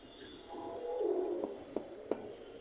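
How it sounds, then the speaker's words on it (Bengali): A pair of teddy high-flying pigeons coos softly, a low rolling coo rising and falling in the middle, with a few faint clicks and quiet background hum. "এই জোড়াটা দেখেন, এটা মাস্টার পেয়ার এক পেয়ার টেডি কবুতর"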